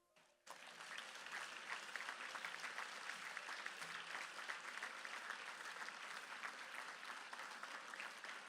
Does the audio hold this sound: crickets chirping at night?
no